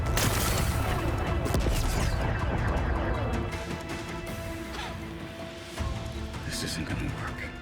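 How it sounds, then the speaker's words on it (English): Rocks blasted apart in Horizon Forbidden West: a loud, dense barrage of crashing, rumbling impacts that holds strong for the first few seconds, eases slightly, then surges again near the end. "Gotta blast away some rocks so I can expose."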